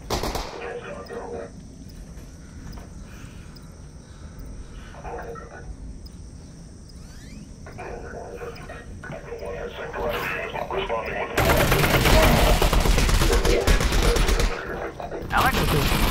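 In Half-Life: Alyx, gunfire aimed at the player comes in scattered shots at first, then a loud dense burst of rapid fire near the end, with a voice talking over it.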